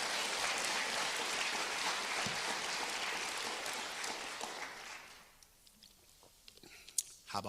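An audience at a city's State of the City address in Youngstown, Ohio, gives a dense round of applause that fades out midway, leaving a few scattered claps and small noises in a quiet room.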